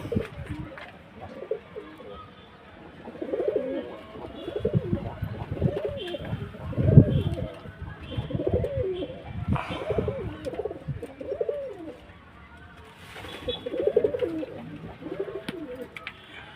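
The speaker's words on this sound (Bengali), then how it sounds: "এই যে আমার কবুতরগুলো" Pigeons coo in repeated soft, throaty phrases on a small farm, several birds overlapping at close range, with a faint background hum and no talking.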